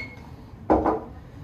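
A cocktail shaker holding a martini mix is jolted, giving a short double burst of rattling ice and metal clinks, close and fairly loud against a quiet room.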